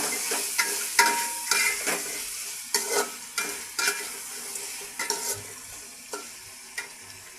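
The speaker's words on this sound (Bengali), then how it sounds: "এই বাটা মশলাগুলোকে আমি কিছুক্ষণ নাড়াচাড়া করে ভেজে নেব।" Ground spice paste with salt is stir-fried in a pan for yakhni pulao, with a soft, steady sizzle under repeated scraping strokes of a spatula, heard close up and without talk.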